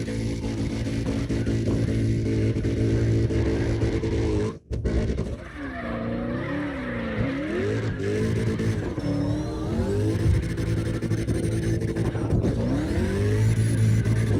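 Drifting car in CarX Drift Racing Online, its engine revving in a steady, loud drone with rising and falling pitch sweeps as it slides, tires scrubbing throughout and a brief dropout partway through.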